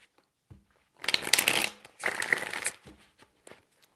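A deck of cards riffle-shuffled twice in quick succession, each shuffle a crisp, close fluttering burst of about a second, with faint taps and handling noises around them and no speech.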